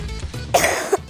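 A single person gives a short, sharp cough, then a second quick cough, close and loud with no talking.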